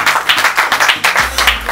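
An audience at a beauty and hairdressing diploma ceremony applauds, a loud, close burst of rhythmic handclaps with a low hum entering near the end.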